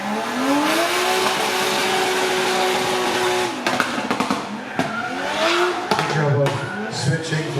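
A drift car's engine screams at high revs during a drift event, holding a steady wail, then breaking into rapid revving bursts and tire noise, with an announcer talking over it.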